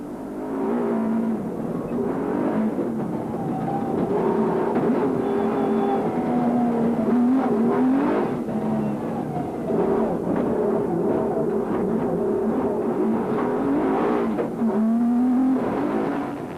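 Onboard engine of the championship-winning South African Nissan Hardbody race truck at the 2003 Carnival City 400, a continuous close drone rising and falling in pitch with repeated revving through gear changes.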